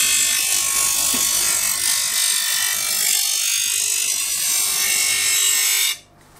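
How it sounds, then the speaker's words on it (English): Bench grinder sharpening the edge of a garden spade: a loud, continuous high-pitched grinding whine that holds steady for about six seconds, then cuts off abruptly, leaving near silence. "take this spade to the grinder and really get a nice edge on it"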